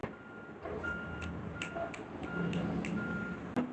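A garbage truck reversing outside sounds its backup alarm, a faint steady series of evenly spaced beeps heard from a distance over low background hum, with a sharp clack near the end.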